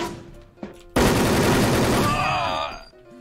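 Sustained burst of gunfire from a video game, loud and dense from about a second in, running two seconds before tapering off, with short quieter sounds before it.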